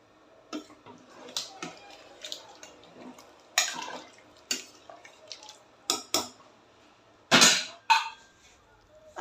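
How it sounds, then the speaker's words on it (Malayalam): Two cups of water go into a pot of undhiyu, followed by scattered splashes and spoon knocks against the pot, with sharp clinks and a louder watery burst near the end. "അതിലേക്ക് 2 കപ്പ് വെള്ളം ചേർത്ത് നന്നായി മിക്സ് ചെയ്യുക."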